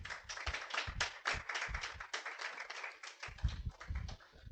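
Scattered hand claps from an audience at a ceremony welcoming a guest, irregular and fairly faint, with uneven bursts overlapping and thinning out without any talk.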